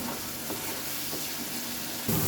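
Chana dal masala sautés in a pan with a steady, dense sizzle that holds evenly throughout and swells slightly at the very end.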